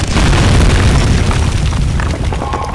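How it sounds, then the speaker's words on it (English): A loud, close explosion in the horror game Amnesia: The Dark Descent, a sustained rumbling boom with crackling debris that fills the whole moment before tailing off slightly. "it totally did not hear the explosion, apparently"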